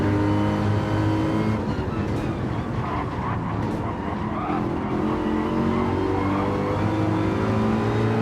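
V8 race car in a racing video game at Kyoto Driving Park, engine revving up and short shifting through the gears, loud and continuous with rising and stepping tones and faint tyre noise.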